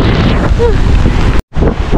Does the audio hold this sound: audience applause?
no